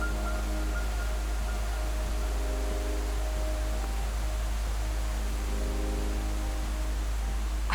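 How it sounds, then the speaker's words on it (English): Steady, dense roar of a waterfall in the snowy Alps near glacial lakes, a broad continuous wash of falling water heard close and loud without pause, with a faint low hum underneath. "the sound of falling water told us we were too close to give up"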